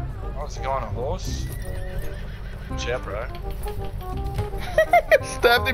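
A horse whinnies in the Battlefield 1 video game, with several shrill, wavering neighs over battle noise, followed by sharp hoofbeats near the end, while players talk over it.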